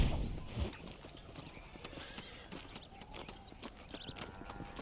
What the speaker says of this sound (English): Cavalo ali.